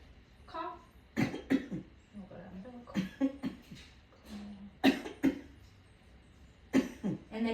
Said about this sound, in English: So as I press down, just go ahead and cough